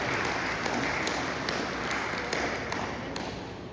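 Congregation applause during a church service, dense steady clapping from a large crowd that sounds like wash, with a few sharper claps standing out, continuous and even in level.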